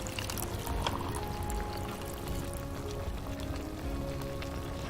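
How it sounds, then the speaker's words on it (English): Milk trickles slowly into a pot in a steady, soft pouring wash that continues for several seconds without pauses. "take this milk and pour it in. Nice and slow."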